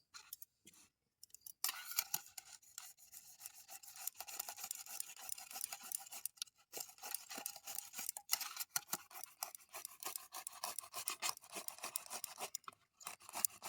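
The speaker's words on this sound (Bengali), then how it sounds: "টমেটোটাকে প্রথমে কিন্তু গ্রেট করে নেব" A medium-sized tomato rubbed against a hand grater, steady scraping and rasping strokes close up, continuous and fairly quiet with a few short pauses, no talking.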